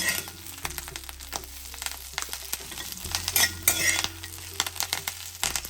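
Curry leaves crackle and sizzle sharply in hot oil over a low flame, with bursts of popping and spattering from their moisture while a spoon stirs and scrapes the pan.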